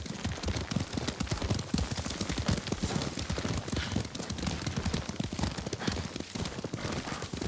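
Horse hooves clip-clop steadily and fast while riding in the video game Ghost of Tsushima, a dense rhythmic patter of hoofbeats running continuously throughout.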